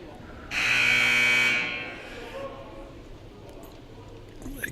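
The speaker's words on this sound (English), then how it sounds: "There's the buzzer that's calling them out" A loud electronic buzzer at a girls high school basketball game blares for about a second in a gym, then fades into crowd murmur and a voice talking.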